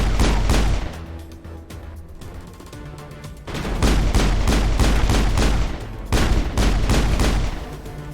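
Dense gunfire from the Mass Effect video game, with loud bursts of shots and booming impacts that come in waves, easing briefly before surging again.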